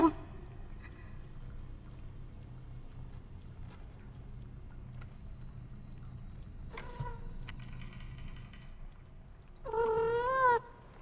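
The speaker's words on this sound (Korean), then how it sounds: "고양이요 고양이 고양이가 와서" Cat meowing in the game One Hand Clapping, a short wavering meow near the end, fairly clear over a low steady background hum.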